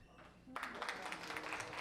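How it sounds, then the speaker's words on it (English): A comedy club audience bursting into clapping after a brief quieter lead-in, a dense mass of hand claps sustained to the end with a voice faintly underneath. "clap if you like to sleep naked?"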